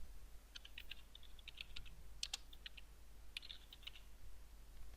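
Someone types on a computer keyboard, copying a word sequence from paper for an offline bitcoin wallet. Light, quick keystrokes come in short bursts with brief pauses over a faint steady hum, and no one speaks.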